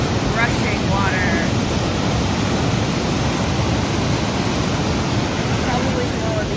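A river swollen with ice melt rushes below a bridge near Leavenworth, Washington, giving a loud, constant broadband roar throughout, with wind buffeting the microphone.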